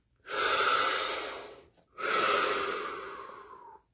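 Two long, deep breaths, close and clear: a drawn-out inhale followed after a brief pause by a second long breath, each fading gradually, with no talking.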